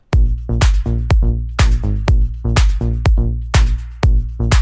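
A loud electronic beat loops steadily: booming kick and deep bass pulses with a sharp clap landing on the off-beats.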